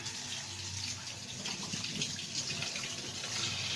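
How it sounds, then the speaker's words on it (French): A kitchen tap runs steadily as hands are washed beneath it, a close, continuous hiss of gushing water that is soft in level and carries no talk. "se lave les mains."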